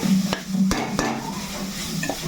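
Vegetables sizzle in a hot pan for a vegetable pilaf while a utensil stirs them, with a few sharp scraping knocks over a steady close frying hiss.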